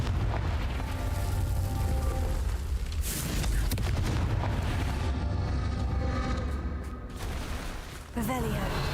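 A Confringo explosion spell in the video game Hogwarts Legacy, with dense, loud booming blasts and rumbling impacts rolling continuously amid game sound, a voice speaking over the top.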